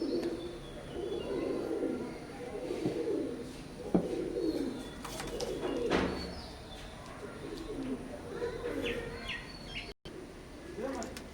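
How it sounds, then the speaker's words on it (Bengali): A pair of Oman blood line running pigeons, teddy type, cooing in soft repeated low throaty bursts, fairly close, with faint chirps and a few sharp knocks in the background. "এখন স্ক্রিনে যে একজোড়া কবুতর দেখতে পাচ্ছেন ওমান ব্লাড লাইনের রানিং কবুতর।"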